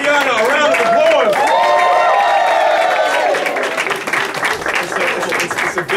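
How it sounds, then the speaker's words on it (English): Rally crowd at a Bronx Democratic Party event applauding Ariana Collado, a dense burst of clapping with cheers, while a drawn-out musical or sung tone rises over it and then fades. "So please, give Ariana a round of applause."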